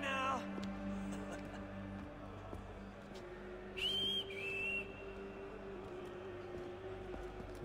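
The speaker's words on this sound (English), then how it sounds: "Did I whistle, or was that somebody else?" A short two-part whistle from the game Assassin's Creed 3, sliding then holding steady, heard mid-clip over a busy game soundscape with low steady hums and background noise.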